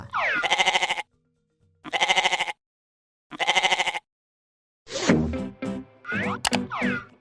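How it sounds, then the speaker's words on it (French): A goat bleats three times in evenly spaced, wavering calls, then gives a longer, rougher run of bleats, loud and close with silence between. "Écoutons le son que fait la chèvre."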